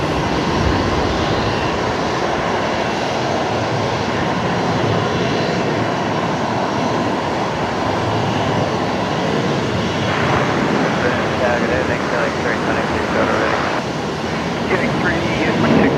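Qantas airliner rolling for takeoff at Brisbane Airport, a steady, loud broadband jet roar that holds throughout, with a brief rising whine near the end.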